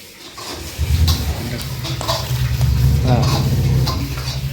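A large pot of Dindigul-style mutton biryani is stirred, with scraping and clattering strokes and a soft sizzle, and voices talking throughout.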